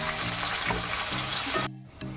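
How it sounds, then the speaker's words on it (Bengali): Chopped onions fry in hot mustard oil in a kadai with whole garam masala and cumin, making a loud, continuous close-up sizzle that drops away briefly near the end before resuming. "তেলটা গরম হলে পেঁয়াজটাকে লাল লাল করে ভেজে নেব।"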